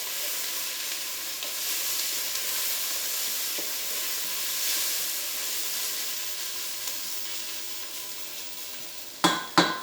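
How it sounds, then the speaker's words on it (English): Whole garlic cloves frying in a pan for red onion chutney, a steady close sizzle and hiss throughout, ending with a couple of sharp clattering stirs or knocks against the pan, no talking. "See that stir around, start them cooking on."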